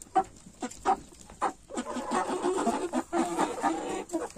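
Chickens cluck in a busy flock, short bursts then a steady overlapping chorus of hens and roosters, fairly close.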